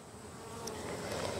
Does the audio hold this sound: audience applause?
no